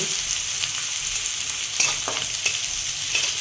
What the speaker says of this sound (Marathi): जाडसर परतून घ्यायचा कांदा छान